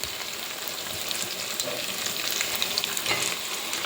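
Tomatoes sizzling and frying with onions in a pan for gongura chicken, a steady dense crackle throughout with faint stirring, no voices.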